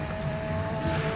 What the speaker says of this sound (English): This car also sounds magnificent. Thunderous.